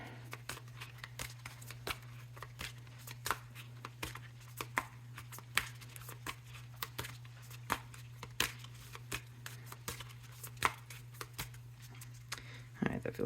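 Tarot cards being shuffled during a reading, a long run of crisp riffling snaps and flicks at close range over a steady low hum, with a voice speaking at points.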